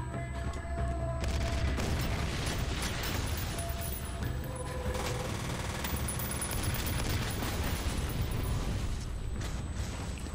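Gunfire in the video game F.E.A.R. Extraction Point, with steady automatic bursts and booming blasts packed together, sustained and fairly loud over a layer of continuous background noise, with no speech.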